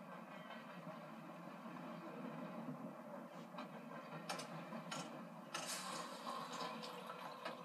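A train moving through Berlin in the video game Wolfenstein: The New Order, a steady rolling rumble with rattling and clanking mechanical noise and a few sharper metallic bursts, heard alone without talk.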